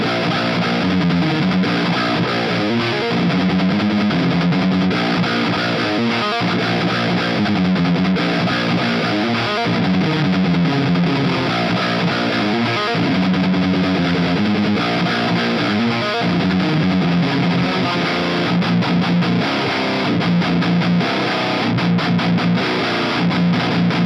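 Heavily distorted electric guitar plays rock and metal riffs through the PV5150 amp preset on a Mooer GE150 Max, loud and continuous with chugging rhythmic patterns, with no talking.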